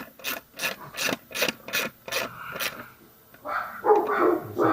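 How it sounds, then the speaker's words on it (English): Socket wrench on an 18mm axle nut of a Xiaomi M365 Pro scooter wheel, a run of about seven quick, evenly spaced ratcheting strokes up close, then a rougher scraping burst at the end. "I'm gonna use my socket wrench on the other side since it's easy accessible."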